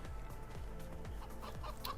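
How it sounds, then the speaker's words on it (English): Chickens cluck steadily in the Farming Simulator 22 video game, a busy overlapping chorus of short, repeated calls at a fairly even, moderate level, with no talking. "looks like we got a few more eggs out of these chickens here"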